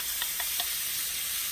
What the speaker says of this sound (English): we're gonna pan sear our steak for about probably 3 to 5 minutes until it's nice and brown